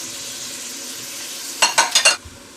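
A few brief clattering stirs and sizzles rise over a steady hiss of hot oil as carrots and bok choy go into a pan with golden-brown onion, then fade quickly.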